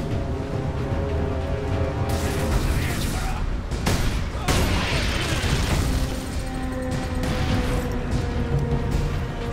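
Heavy weapons fire in the Warhammer 40,000 Space Marine game: dense, booming bursts and crashes blending into continuous loud gunfire and explosions, with clattering mechanical impacts throughout.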